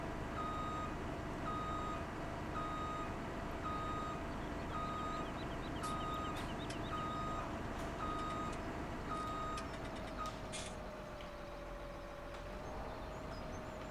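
In Farming Simulator 17, a tractor's reversing alarm beeps in an even repeating pattern over a constant low engine drone, fairly quiet with a few clicks near the end.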